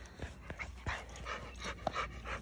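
Dogs pant quickly and softly at close range outdoors during a total solar eclipse, with faint breathy rhythms, a few small snuffles and some light background noise.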